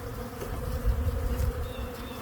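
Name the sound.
honey bees buzzing at an opened hive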